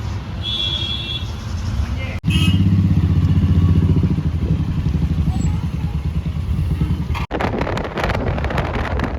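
A rented BS6 motorcycle cruising on the road in Leh, Ladakh drones steadily up close, its engine note mixed with heavy wind buffeting against the microphone and a brief dropout partway through.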